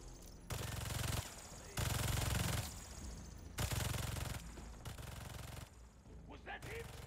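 Rapid automatic turret gunfire in the video game Marvel's Spider-Man 2, coming in several loud sustained bursts separated by short pauses, with softer game sounds in the gaps.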